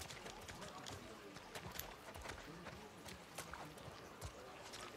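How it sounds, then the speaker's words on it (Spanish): Horse hooves clip-clop in a steady quick rhythm in the video game The Last of Us Part II, over a busy bed of background noise, with sharp clicks scattered throughout. "este es mi caballo"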